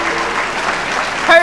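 Brief audience applause at a school hero-recognition event, a short steady burst of crowd clapping that ends with a brief vocal sound.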